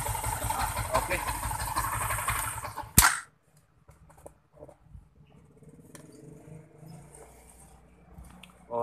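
Repaired Yamaha MX King 150cc motorcycle engine idling steadily and fairly loud for about three seconds before cutting off abruptly, followed by quiet workshop sounds and faint clinks.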